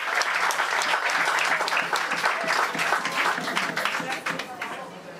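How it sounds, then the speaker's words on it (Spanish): Loud, dense applause from a large crowd at a city's 165th anniversary celebration, sustained continuous clapping that eases slightly toward the end, with crowd voices mixed in. "vamos a un aplauso grande, fuerte, que se escuche hasta cielo"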